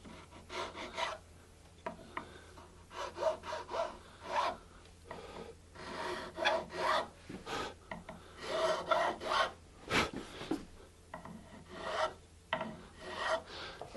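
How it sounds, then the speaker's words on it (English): Guitar frets being chamfered with a file, heard as a series of close, rhythmic rasping strokes in bursts with short pauses between them. "putting a chamfer on these frets makes it easier to later on press in all the frets"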